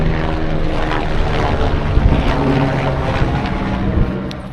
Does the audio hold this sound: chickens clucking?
no